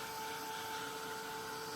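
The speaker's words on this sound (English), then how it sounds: "give it a little shake and shimmy on the hairdryer action" A hair dryer blows steadily on Hobonichi planner pages to keep them from sticking, a continuous close whooshing drone with a faint motor whine and no pauses.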